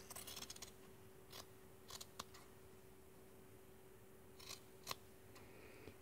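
Scissors snip through jersey fabric while sewing mittens, a few quiet, crisp cuts in quick clusters separated by pauses, close and faint against a soft background hum.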